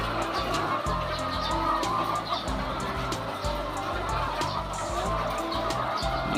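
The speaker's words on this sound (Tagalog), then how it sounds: "ang gaganda ng ating mga manok" Backyard chickens, healthy-looking hens in a Filipino flock, cluck and chatter close by in repeated bursts over a continuous low hum of background noise, with faint voices mixed in.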